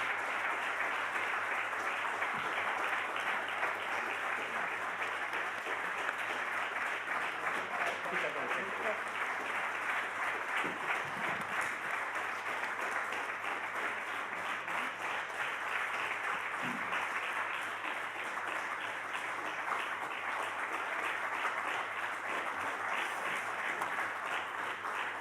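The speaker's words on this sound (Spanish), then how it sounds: "Tenemos que dar también un aplauso a María Luisa Revilla" Sustained audience applause fills a tribute ceremony honoring Alfredo Jimeno Martínez, a steady dense wash of clapping lasting throughout, with faint voices mixed underneath.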